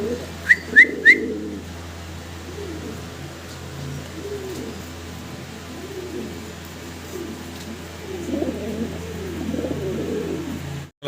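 German Beauty Homer pigeons coo softly and repeatedly in a loft, low rolling calls over a steady background hum, with a few sharp high chirps near the start.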